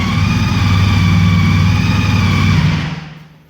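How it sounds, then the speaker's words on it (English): A 2014 Honda CTX 1300 Deluxe motorcycle engine runs close and loud with a steady low rumble and a faint high whine, then fades away quickly near the end. "You hear the whine, and that's how it sounds."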